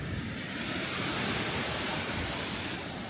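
Steady broadband rush of sea waves washing onto a beach at Abragciems–Žocene, continuous and fairly close, with no voices.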